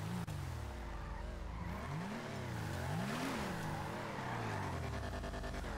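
A car in the GTA V video game revs hard with wavering engine pitch while its tires skid and squeal, a steady, loud stretch of game driving noise.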